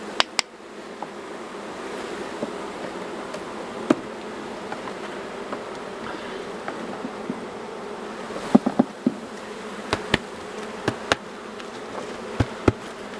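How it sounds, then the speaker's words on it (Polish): Close, continuous buzzing of wasps inside a beehive, with occasional sharp clicks and bumps; no one speaks. "Także tej osy trochę jest w tym ulu."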